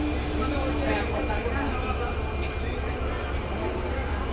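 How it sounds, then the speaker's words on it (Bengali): A train rumbles through Parbatipur railway junction at night with the Nilsagar Express expected next, giving a loud steady low roar of wheels and rolling stock with faint metallic clinks, while people talk over it. "এরপরেই দেখতে পারবেন নীলসাগর এক্সপ্রেসের প্রবেশ পার্বতীপুর রেল জংশনে"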